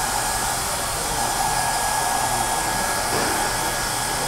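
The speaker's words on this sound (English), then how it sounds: "it dries pretty fast with a hair dryer" A hair dryer runs continuously at close range, a loud, steady rushing whir with no other sounds.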